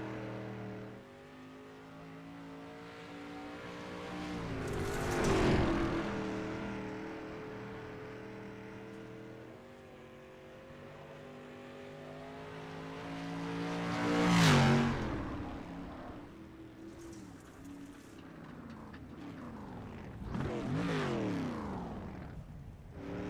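Dirt-track race cars in a racing video game, set at Port Royal Speedway, roar past in three loud Doppler sweeps. Engine drone fills the gaps between passes.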